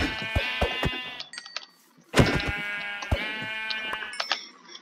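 Sheep bleat loudly and repeatedly in a survival video game, with several close bleats and gaps of quiet between them.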